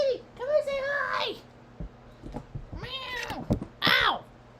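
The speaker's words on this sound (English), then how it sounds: "Aw, pretty kitty." A house cat meows close by, three drawn-out, wavering calls spread across a few seconds, with quiet pauses and soft rustling between them.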